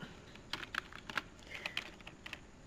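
A router IP address being typed on a computer keyboard: quick, light clicking keystrokes in short irregular runs, close and quiet, with no talking.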